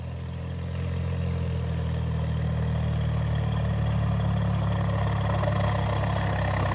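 A green John Deere 5076E or 5075E tractor engine idles at a worksite in Kham Khuean Kaeo district. It makes a steady, loud, low diesel rumble that runs without a break, with a faint whine climbing above it.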